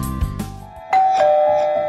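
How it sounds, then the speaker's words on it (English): Chime of a Bosma Sentry video doorbell: a loud two-tone ding-dong that rings out with sustained tones, after a short stretch of muffled, clunky sounds. "You hear that? That's the sound of your brand new doorbell."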